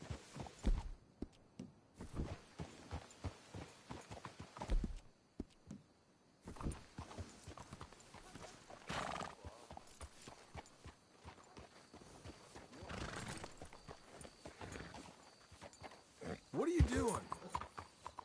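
Horses in a video game clopping and shifting about at a distance, soft hoof steps scattered among quiet in-game dialogue, with one brief whinny-like sound near the end.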